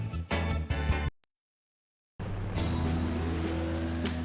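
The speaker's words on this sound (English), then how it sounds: "The car sounds are really loud." Loud engine roar from racing cars in a retro racing video game, cutting out abruptly into silence before a continuous revving drone returns, with a brief squeal near the end.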